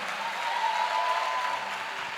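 Audience applause at a church conference, a steady wash of clapping filling the hall throughout, loud and continuous, with no talking over it.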